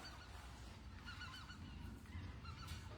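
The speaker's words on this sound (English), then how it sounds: "But then I hear the birds come through" Geese honk in a string of calls that sound fairly distant, under a steady wash of background noise in foggy, wet weather.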